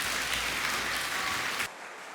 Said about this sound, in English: can I please ask for a round of applause to congratulate all the recipients so far